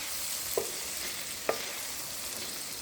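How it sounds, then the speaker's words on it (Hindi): Cooked egg and ridge gourd are stirred in a hot pan, a soft steady sizzle with two distinct utensil taps against the pan. "अब इसको करेंगे अच्छी तरीके से मिक्स"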